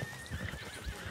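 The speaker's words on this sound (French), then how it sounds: "C'est quoi ce cheval-là mal élevé, quoi." Horse in Red Dead Redemption 2 whinnying with clip-clopping hooves, a steady mid-loud stretch with repeated low hoof thuds under a wavering neigh, no talk.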